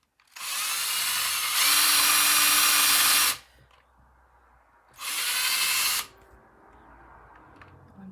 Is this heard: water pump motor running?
no